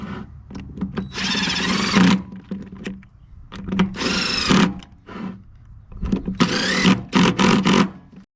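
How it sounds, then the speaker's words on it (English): A 1/4 inch impact driver running in brake caliper bolts on a Wilwood caliper, three short bursts of whirring, hammering rattle separated by quieter clicks and handling. "I'm just running these in with this 1/4 inch impact driver"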